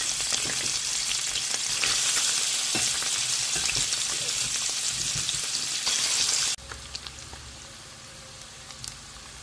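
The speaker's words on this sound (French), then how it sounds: "je vais mettre maintenant ma viande à griller" Beef frying in hot vegetable oil in a pan, a loud dense crackling sizzle with spattering pops that abruptly drops to a quieter, sparser sizzle partway through.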